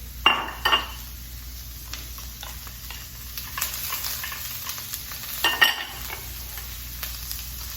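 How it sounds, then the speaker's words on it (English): Vegetables and sausage sizzle in hot oil for a stir fry, a soft continuous frying hiss broken by two bursts of a utensil scraping and clinking against the pan as the food is stirred. "Hear that sizzle?"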